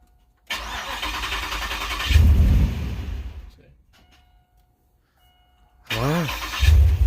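A 2007 Pontiac Grand Prix GXP engine rises in bursts as throttle is given, with a loud surge, a lull to near quiet, and a second surge with a brief whine. Voices talk briefly between them.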